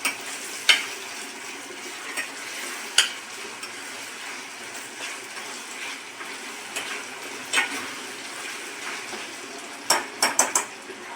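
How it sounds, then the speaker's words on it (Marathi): Ground masala paste being stirred into a prawn curry in a pan, with soft frying sizzle and intermittent sharp clinks of a spoon against the metal pot. "आपण याच्यामध्ये वाटण ॲड करूया. आणि मिक्स करून घेऊया."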